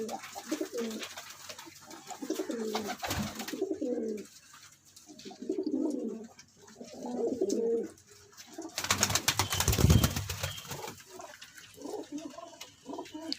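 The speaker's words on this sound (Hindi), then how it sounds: "ए कबूतर वेख लो" Pigeons coo in repeated soft, throaty phrases at a pigeon seller's loft in Khanga Dogran, Sheikhupura, with fluttering and a louder burst of wing noise partway through.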